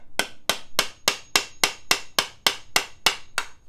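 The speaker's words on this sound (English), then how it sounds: "I'm going to hammer the stick, and you can see the tape moves down." A hammer striking a stick in a steady, evenly spaced rhythm of about a dozen sharp, loud, close knocks, with no talk between blows.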